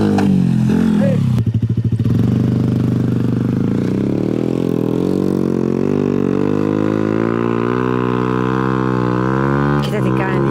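A Yamaha Crypton S 115cc motorcycle revs hard during wheelie practice, its engine note climbing and holding as a loud, steady drone over about ten seconds, with a sharp clatter early on and voices calling out nearby.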